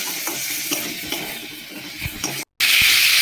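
Chilli and spices sizzle and crackle steadily while being stirred and fried in a pan for a spiced bread dish, with scraping stirs throughout, a brief gap, then a brighter, louder burst of sizzling.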